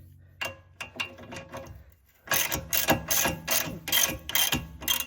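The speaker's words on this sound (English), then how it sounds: "I'm gonna get my 17 mil ratchet and crank her loose" A 17 mm ratchet clicks in quick bursts while loosening a tie rod on a Honda CR-V, first sparse pawl ticks, then louder rapid ratcheting strokes in repeated runs, close and alone.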